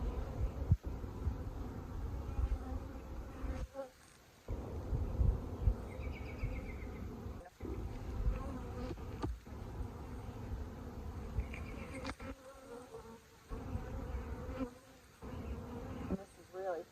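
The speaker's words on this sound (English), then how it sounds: "And this is really full of bees" Honey bees swarm with a steady, dense buzzing inside a nuc hive packed with bees and capped brood, a continuous close drone with a few soft knocks and brief dips.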